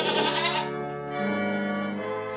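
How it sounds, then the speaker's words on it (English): Goats bleat loudly in sustained, wavering cries along to a large organ playing the Christmas carol "O Come, All Ye Faithful," with no talking. "you don't have to wait till January 6th to hear goats singing to Christmas carols"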